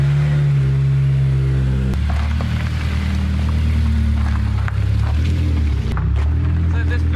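A Honda S2000 being rebuilt after a wreck fires up and revs, first a loud, steady low idle hum, then a sudden change to a rougher, fluctuating engine rumble with people talking nearby.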